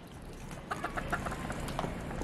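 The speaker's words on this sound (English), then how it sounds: "Oh, what is this? A chicken." A chicken clucks in the snow, several short, sharp clucks rising over a steady noisy background, fairly close and with no talking.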